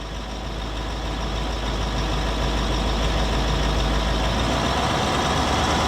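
Range Rover L322 TDV8 diesel V8 running steadily close up, a continuous low engine drone with a broad hum and a slight rise in level as the revs are held up; no talking.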